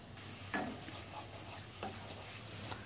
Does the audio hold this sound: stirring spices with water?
yes